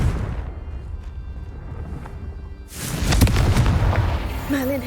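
Confringo blasting spell explosion in Hogwarts Legacy, heard as a loud, broad boom that erupts partway through, with bright crackling debris and a rising tonal whine trailing after it over the game's background ambience.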